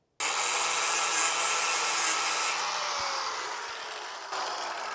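Continuous abrasive cutting as overly long bolts are trimmed down on a zero turn lawn mower being repaired, a steady rasping grind close by that eases slightly toward the end, with no talking.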